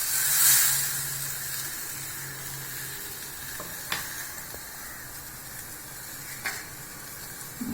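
Fish curry with tamarind and ground coconut sizzles steadily in a pan, a loud continuous hiss with a few sharp clinks and scrapes of the spoon as it is stirred, no voices.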